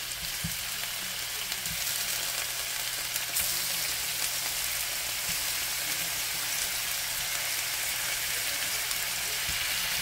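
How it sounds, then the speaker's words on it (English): Steady, crackling sizzle of chicken pieces frying in hot olive oil in a pan, continuous and fairly quiet, with occasional soft pops and no voices. "And then put the pieces of chicken on there. Some sizzle."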